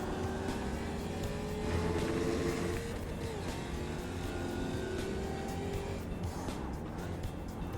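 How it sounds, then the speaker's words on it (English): Ford Mustang FR500S race car accelerating down a straight in iRacing, a steady loud engine drone with rising harmonic pitch sweeps as it climbs through the revs, continuous and close throughout. "it shows in the way the Mustang gathers speed down the straights"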